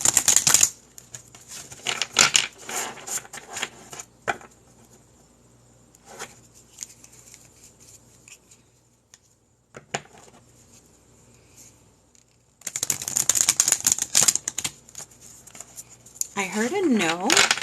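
Large oversized cards are shuffled by hand in crisp bursts of riffling and flapping, with quiet gaps between sessions of shuffling and a person speaking softly at points.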